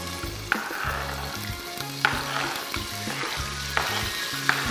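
Onions frying in oil for a leaf sauce, a steady close sizzle with periodic sharp clinks of a utensil against the pot and a low humming drone beneath.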